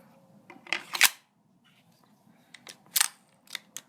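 A KWA HK MP7 gas blowback airsoft gun's bolt clacks as it locks back. The sharp mechanical clicks and snaps come close in two short clusters with a quiet pause between.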